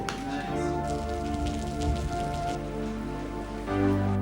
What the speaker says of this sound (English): I heard the sound of the abundance of rain